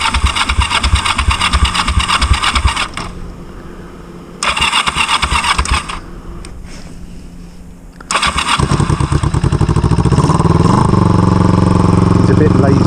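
A Kawasaki EN450 bobber motorcycle engine cranks and sputters through several start attempts with pauses between, then catches and settles into a loud, close, steady idle.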